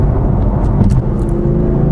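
BMW M4 engine roaring up close, a steady loud throaty rumble as the car accelerates, with no talking over it.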